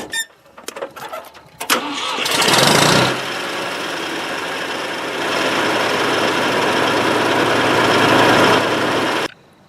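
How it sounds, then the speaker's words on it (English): A Ford 3000 tractor engine cranks and catches, then settles into a loud, steady running drone close by, after some brief clanks and knocks at the start. "I'll start this tractor up and watch what happens"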